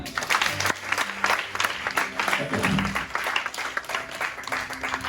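Church congregation applauding together, a dense, steady wash of clapping with scattered voices and cheers mixed in, fairly close and sustained throughout.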